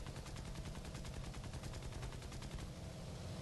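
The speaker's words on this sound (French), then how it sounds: "quand on tire comme un sauvage, après il faut recharger" Rapid bursts of aircraft gunfire in an online flight combat video game, a dense, continuous rattling volley lasting a few seconds at steady loudness with no talking.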